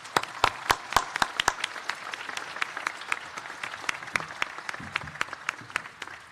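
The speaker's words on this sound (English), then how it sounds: "please, let's give a round of applause to Matthew and his family for being here." An audience applauds at an introductory press conference for a women's basketball head coach in Houston. Crisp individual claps start loud and quick, then settle into a steady patter of lighter clapping that carries on for several seconds.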